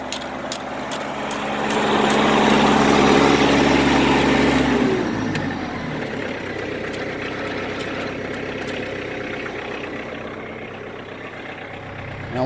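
A tractor running a hay tedder drones loudly and steadily at first, then the engine note drops and settles into a lower, rougher idle-like chug near the microphone, with no speech.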